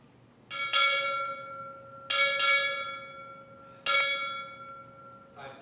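A ceremonial bell at a memorial rings three clear strikes at even intervals, each tone ringing out and slowly decaying before the next.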